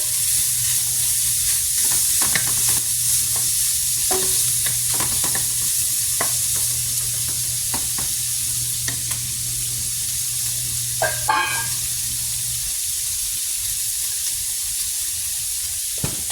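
Bacon bits fry in a pan for breakfast burritos, giving a continuous close sizzle and hiss with occasional scraping and stirring strokes, while a low hum runs underneath for most of the time.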